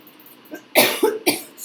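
A person coughs in a short burst of three harsh, close coughs in quick succession, loud against a quiet room after a faint breathy lead-in.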